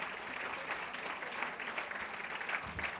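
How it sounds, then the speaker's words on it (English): Steady, dense applause from an audience at an annual session fills the hall for a father honored as a pioneer of gender parity, heard at an even, moderate distance with no talk over it. "Ladies and gentlemen, a really strong round of applause for this wonderful father."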